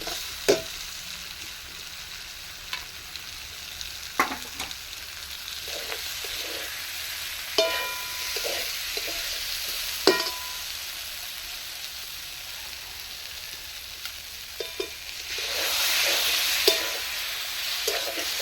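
Masala for singara fries in a pan, a soft continuous sizzle broken by repeated clinks and scrapes of a spoon stirring, with a louder hiss swelling near the end, likely from water being added; no voices.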